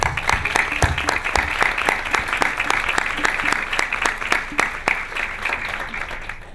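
Brief applause at a seminar honors a colleague, many hands clapping in a brisk, even rhythm with crisp individual claps standing out, holding steady before thinning slightly toward the end.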